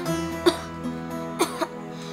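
A person coughs a few times, with one short cough, a pause, then a quick pair of coughs over a low background hum.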